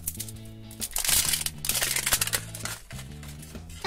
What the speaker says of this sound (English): Pull down the zipper.